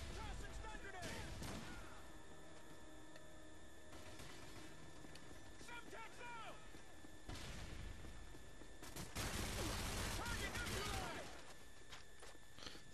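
Gunfire in a Call of Duty Modern Warfare 3 team deathmatch on the Interchange map, with bursts of automatic shots around the midpoint and a heavier volley later, amid game noise and a player talking.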